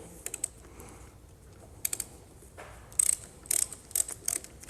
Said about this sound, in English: This is where our 17 millimeter is going to come into play. And it's just going to release that banjo bolt